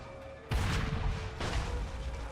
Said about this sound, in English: killing 15 guards with a single cannon shot